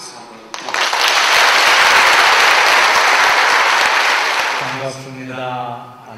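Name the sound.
audience applause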